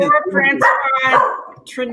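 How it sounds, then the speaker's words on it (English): A pet dog barks and yips in a few quick, close bursts, mixed with voices talking over it during a live online broadcast. "Oh, that's my dog."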